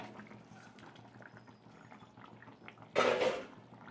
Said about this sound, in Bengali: মাছ কটাকে দিয়ে দিচ্ছি।